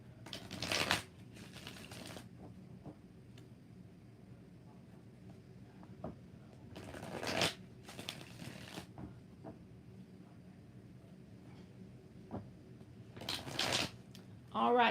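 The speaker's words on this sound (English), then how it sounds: "Four shuffles for Daisy." Tarot cards being shuffled in a few short bursts of riffling, close and fairly soft, separated by quiet stretches.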